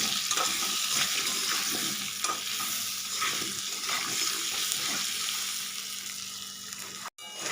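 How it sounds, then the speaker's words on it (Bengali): Potato pieces fry in oil with turmeric until reddish, giving a strong, continuous sizzle with faint stirring, then a sudden brief cut near the end before the sizzle returns. "আলুটা একটু লাল লাল করে ভেজে নিচ্ছি।"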